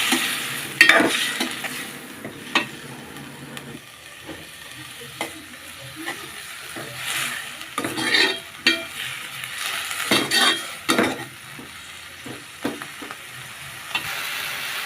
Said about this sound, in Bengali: রসুন দিয়ে দিলাম, একটু জল দিয়ে কষাই নিতে হবে।